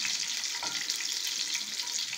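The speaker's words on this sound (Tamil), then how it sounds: "வெங்காயம் போட்டு நல்லா வதக்கிக்கலாம். வெங்காயம் நல்லா பொன்னிறமா வதங்கணும்." Onions sauté in a pan for a taro root stir-fry, giving a steady, close sizzle that holds evenly throughout with no voices.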